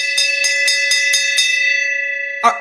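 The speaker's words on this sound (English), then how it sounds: "Let me hear that bell." A bell rings in a rapid series of bright, clanging strikes with a sustained ringing tone, then one final strike after a brief pause.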